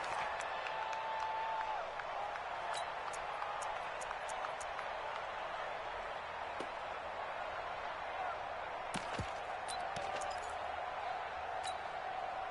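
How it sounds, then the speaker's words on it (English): A crowd cheers in an American football video game on PS4, building toward a big third down. It is a faint, continuous, distant roar with a few light clicks and taps scattered through it. "The crowd getting into it as we come up on a big third down"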